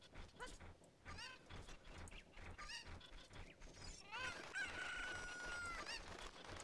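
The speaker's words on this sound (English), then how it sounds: "Chicken!" Chickens in The Legend of Zelda: Ocarina of Time cluck and squawk in a busy, continuous chorus, rising into a sustained crowing cry near the end, fairly quiet overall.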